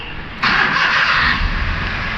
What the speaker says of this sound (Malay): Saya start enjin.